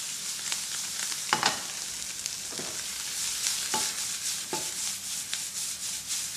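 Sliced mushrooms fry in a pan with a touch of butter, a steady close sizzle broken by several scraping strokes as they are pushed and stirred around the hot pan, with no voices.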